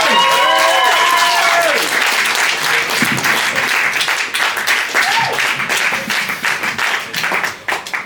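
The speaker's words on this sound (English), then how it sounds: "Give a big round of applause for Sean Heggarty and Talal." Live audience at a comedy rap battle event bursts into loud, sustained applause with cheering, while a voice speaks over the start before the clapping slowly thins out.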